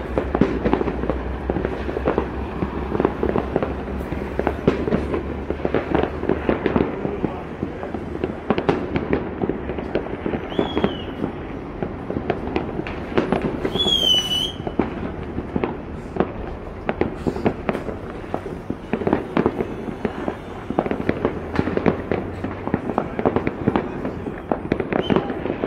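Fireworks burst nonstop over a city at night in a dense, crackling barrage of near and distant explosions, with a few whistling rockets rising in between.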